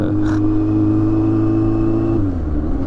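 A 2001 Yamaha FZS 600 café racer motorcycle accelerates in sixth gear from about 50 km/h, giving a close, steady engine drone whose pitch drops slightly near the end.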